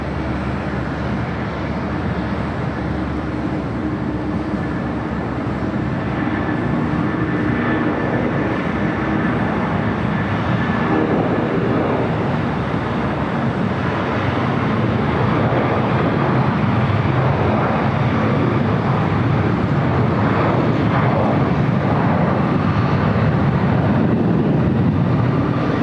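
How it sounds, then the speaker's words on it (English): United Boeing 757-300 jet taking off on runway 25 right at LAX, a steady, dense roar of engines that swells gradually and stays loud throughout, heard from a distance with no talk. "United 757-300 heading to Honolulu, now rolling down at 25 right"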